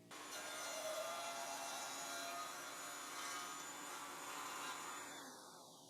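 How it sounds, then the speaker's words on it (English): A table saw rips a slot into a workpiece to fit its riving knife on an Evolution Rage 5S, a steady loud whine of blade through wood held for about five seconds before trailing off as the cut ends. "For that I've set up the fence, my table saw, and we're just going to make the cut now."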